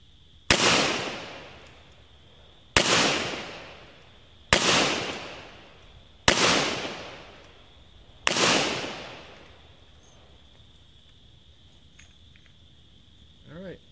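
Ruger SP101 revolver fired double action outdoors, five loud sharp shots at a steady pace about two seconds apart, each ringing out with a long echo decay, and crickets chirping underneath.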